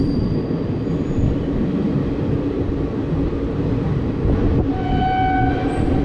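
A passenger train stands at a station platform with a steady deep rumble throughout, and a sustained horn blast sounds near the end, loud and close.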